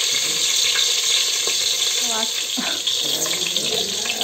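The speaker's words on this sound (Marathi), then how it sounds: "नुसती लसणाची फोडणी द्यायची," Garlic and curry leaves hit hot oil for a tempering, giving a steady, loud sizzling hiss that runs the whole time, with a faint voice briefly rising under it.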